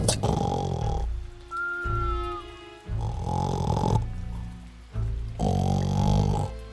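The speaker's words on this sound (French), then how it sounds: "Il n'entendit que des ronflements." Loud, rhythmic snoring from sleepers behind a closed door, each rumbling breath lasting about a second with short gaps between, three strong snores in a row.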